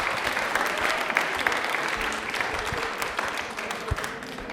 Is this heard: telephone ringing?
no